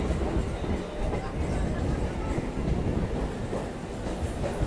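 A Barddhaman to Katwa local passenger train runs along the line, a steady low rumble and rattle of carriages close by, continuous throughout with a faint murmur of voices mixed in.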